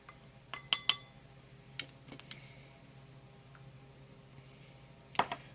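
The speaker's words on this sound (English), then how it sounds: "Then I'm adding some caviar beads, Peacock, and I'm gonna add a half a teaspoon." Small caviar beads being measured out with a metal teaspoon, heard as a few faint, sharp clinks and ticks scattered over a quiet background, with a tight cluster early and another near the end.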